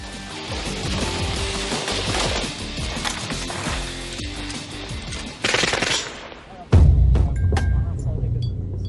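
Calibre .50 heavy machine guns fire in dense, overlapping bursts during combat in a valley, loud and sustained, with a sharper, louder blast near the end and a booming low rumble after it.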